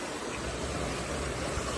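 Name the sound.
water flowing strongly in a large canal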